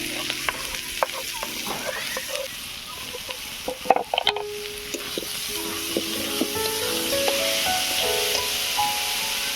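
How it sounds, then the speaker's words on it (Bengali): Slit green chillies and leafy greens fry in hot oil in a pan, giving a steady sizzling hiss with scattered spatters and occasional stirring scrapes, fairly close and continuous. "এবারে এইগুলোকে ভালো করে লাল লাল করে ভেজে নিয়ে শাকটা দিয়ে দেব"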